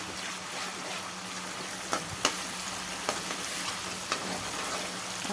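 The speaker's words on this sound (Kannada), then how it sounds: "ಇದು ಉಳ್ಳಾಗಡ್ಡಿ ಸ್ವಲ್ಪ ಕೆಂಪಾಗೊಂಡಿದ್ದನ್ನು ಮೊದಲು ಹುರ್ಕೋಬೇಕು." Onion frying with green chili paste in a pan, a steady low sizzle broken by a few sharp clicks and scrapes of a spoon against the pan.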